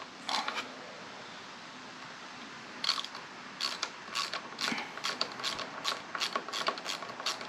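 Wrench clicks and metallic creaks from loosening the nut on a 2024 Yamaha MT-03 clutch lever, a quiet series of short close-up ratcheting and scraping ticks that grows busier toward the end.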